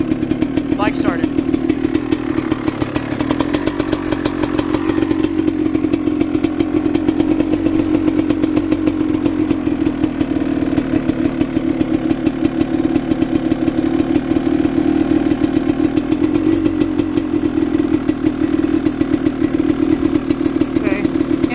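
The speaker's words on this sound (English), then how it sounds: "On, bike started." A GasGas EC300 dirt bike engine idles steadily and loudly nearby, a constant buzzing drone with a fast rattling pulse that holds throughout.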